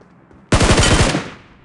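Loud burst of automatic gunfire in the battle royale game BGMI, a rapid string of about half a dozen shots that erupts suddenly and rings out for about a second before fading.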